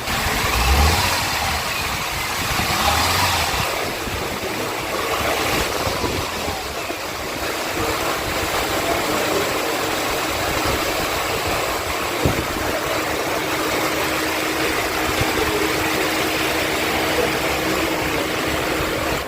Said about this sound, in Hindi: ये देखिए किस तरह से अभी मिस फायर यहाँ पर जो गाड़ी है वो कर रही है